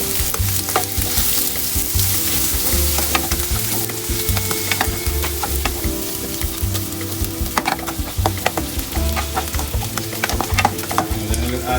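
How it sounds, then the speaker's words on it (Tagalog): About 100 grams of butter sizzles and fries steadily in a pan for buttered stir-fry vegetables, a close, even crackle with light stirring and no talk. "then add our butter"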